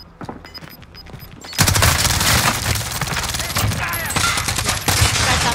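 Rapid DMR rifle fire in a video game rings out as a string of sharp cracks, sparse at first, then a dense, loud burst of repeated shots over busy game noise.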